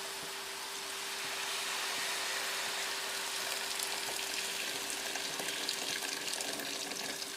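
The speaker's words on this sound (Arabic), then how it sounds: "ننزل بقى بالخليط الجميل ده ووراها على طول الميه المغليه" Boiling water poured straight into a pot over a vegetable mixture for a peas and taro soup, a steady rushing pour that lasts the whole stretch with no one talking.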